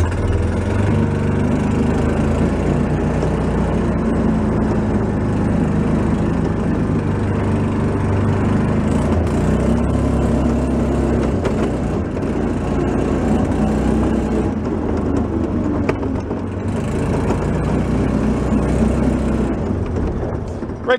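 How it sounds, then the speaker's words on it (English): Engine of a Beaver amphibious vehicle running steadily and loud throughout, a constant low rumble with its muffler rattling against the enclosure, close by and continuous. "The muffler's rattling on the enclosure."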